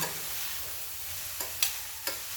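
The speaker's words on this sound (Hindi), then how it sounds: "और 2 चम्मच लेकर के इस तरह से हम इसको पूरे को मिक्स करेंगे।" Poha being mixed in a hot pan with two spoons, a steady sizzle broken by three quick metallic spoon taps and scrapes in the second half, no voice.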